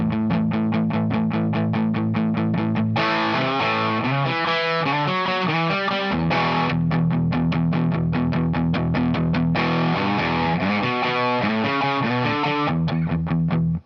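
A loud, distorted electric guitar plays a chugging riff on A, with steady palm-muted rhythm and brief chord changes, no voices.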